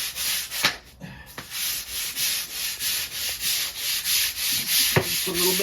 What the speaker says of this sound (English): just kind of work it in with that hard bristle brush